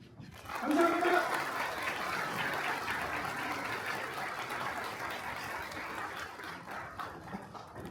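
Audience applause at a rally launching a nationwide campaign for a special administrative capital act, a broad steady clapping that swells quickly, holds for several seconds, then slowly thins out.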